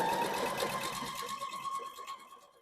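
A home sewing machine stitches a Cross & Crown quilt block, a steady mechanical whir with a fine rapid needle rhythm that runs throughout, fairly close and moderately loud, slowly easing off toward the end.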